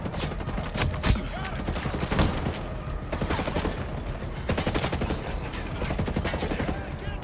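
Gunfire from the Ghost Recon Breakpoint video game, with a sniper rifle in the fight, crackles as dense, rapid bursts of sharp shots over a steady battle din, loud and continuous throughout.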